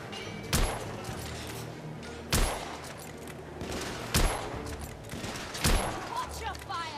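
Gunfire in the video game The Order 1886: four heavy, loud shots spaced about one and a half seconds apart over a rumbling background of game ambience.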